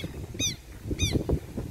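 Two harsh, nasal guinea fowl calls sound about half a second apart over strong wind and low rumbling noise.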